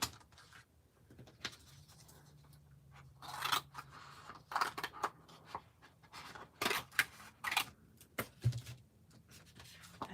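Scissors snip through dried card-making pieces at a craft table, a series of crisp, close cuts and paper rustles coming in uneven clusters over a quiet background.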